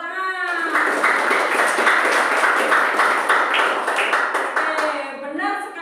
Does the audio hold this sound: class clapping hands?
yes